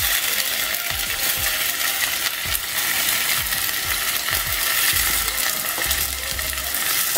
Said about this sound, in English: And then I'm gonna add in my green grams.